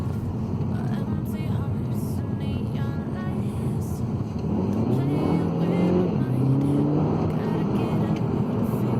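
A VW Scirocco drives in sport mode, its engine droning and rising in pitch as it accelerates, with road and wind noise filling the cabin throughout.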